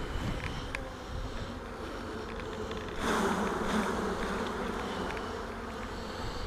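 Honey bees swarm and buzz around an opened hive box during a hive inspection, a dense continuous drone that swells louder partway through, with faint handling noises and no talking.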